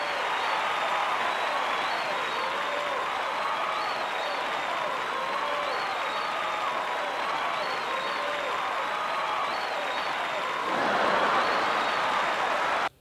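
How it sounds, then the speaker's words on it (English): A karaoke disc soundtrack loops canned crowd noise: dense, steady applause and cheering from a large audience that holds at an even level throughout, briefly swells near the end, then cuts off abruptly. "you've got this surreal, looping soundtrack of obnoxious crowd noises"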